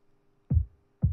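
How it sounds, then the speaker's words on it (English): A low-cut noise layer for a drum and bass kick gives two short, thumpy low-end hits about half a second apart, dry and isolated. "It's going to generate low end noise, like thumpy noise"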